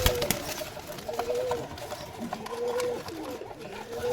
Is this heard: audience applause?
no